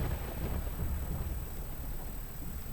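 Heavy monsoon rain in Rajula, Amreli, makes a steady, dense roar that continues without a break.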